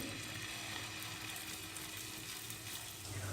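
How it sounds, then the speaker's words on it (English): Bread kebab spread out in a hot pan with four tablespoons of oil fries with a steady, close, even sizzle and crackle throughout. "In a hot pan add 4 tablespoons of oil and spread kebab with the help of spoon."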